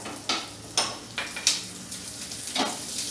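Green peas tipped into hot oil with crackling cumin seeds sizzle softly, with several scattered clinks and stirring scrapes against the pan, close by.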